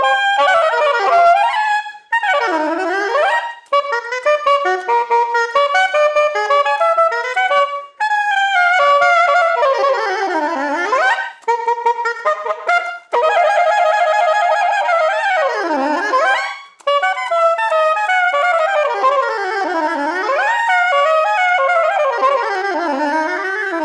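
Several jazz saxophones play busy, overlapping solo lines one after another with swooping bends and fast runs, loud and continuous with brief gaps, no one talking.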